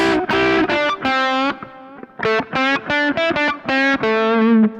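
Distorted electric guitar plays a phrase of separate notes, several of them bending in pitch as they are released, loud and close with no talking.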